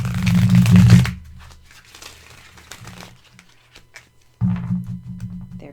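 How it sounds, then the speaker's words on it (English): A tarot deck being shuffled up close: a loud riffle of cards at the start, then quieter sliding and shifting of cards, and a second loud riffle near the end, with no voices. "I'll shuffle it one more time just because."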